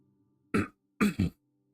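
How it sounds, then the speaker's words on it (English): A man playing Elden Ring clears his throat in two bursts: one short rasp, a pause, then a quick double scrape. It is close and distinct against a quiet background hum, with no talk over it. "Sorry about that, I needed to clear my throat."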